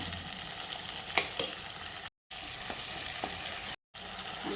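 Ground green chilli, ginger, garlic and coriander masala sautéing in hot oil in a home kitchen pan, a steady soft sizzle with a few light stirring scrapes, fairly close and quiet, no talking.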